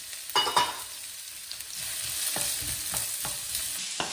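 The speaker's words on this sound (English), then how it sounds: "the idea is to saute the onions till they are pretty brown in color" Chopped onion, one medium onion, sautéing in a frying pan for lamb do pyaza, giving a steady soft sizzle with a few louder stirring clatters near the start and scattered scrapes throughout; no talking.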